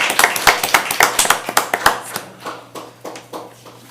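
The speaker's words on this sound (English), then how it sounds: "So a round of applause again." People at a city council meeting give a round of applause after ordinances are adopted. Close, sharp claps come in a quick, uneven patter and thin out toward the end, with no talking.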